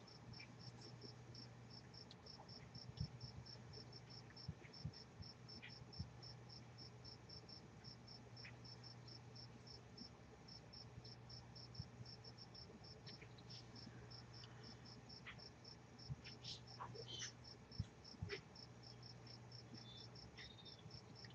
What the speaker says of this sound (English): There's a cricket outside